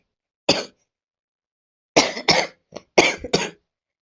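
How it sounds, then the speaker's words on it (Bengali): A person with a bad cold coughs once, then after a pause breaks into a close, harsh run of about five coughs with a brief throat-clearing catch. "ঠান্ডা লেগে গেছে খুব, তার জন্য কাশি হচ্ছে আমার"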